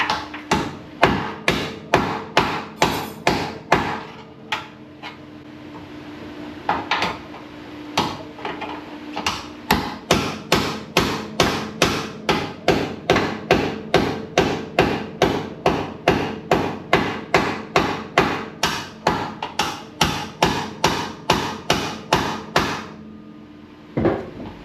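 A truck cab mount on a Ford F100 is hammered flat, a long steady run of loud metallic hammer blows, close up and evenly spaced, with a brief pause near the start.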